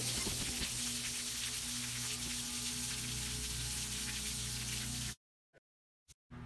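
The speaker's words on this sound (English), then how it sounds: "For faster draining, open the valve." Water drains from a valve on a Jayco RV travel trailer, a steady loud rushing hiss that suddenly cuts off, followed by a few brief spurts.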